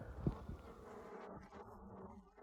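Steady buzzing of a swarm of bees hums continuously at moderate volume with a brief louder knock near the start; no voices.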